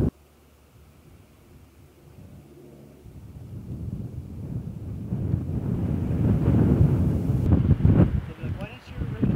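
Arctic wind on Baffin Island gusts against the microphone as rough, rumbling noise that starts faint and swells steadily louder and closer toward the end.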